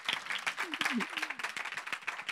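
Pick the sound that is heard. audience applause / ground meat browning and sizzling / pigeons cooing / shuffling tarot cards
audience applause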